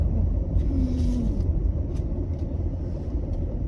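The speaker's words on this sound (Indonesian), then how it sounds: "Iya, 2 mobil lewat juga" Cars passing on a narrow, congested street beside a toll road in North Jakarta, heard as a steady broadband road rumble from inside a vehicle with no clear separate pass-bys.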